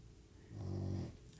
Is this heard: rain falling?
no